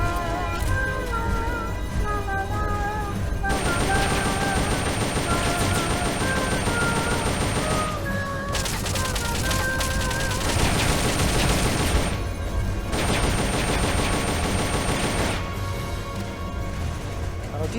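Rapid gunfire bursts from the video game Metal Gear Solid: Peace Walker during a boss fight, dense automatic volleys with explosive crashes layered over game music, loud and continuous with brief pauses between strings of shots.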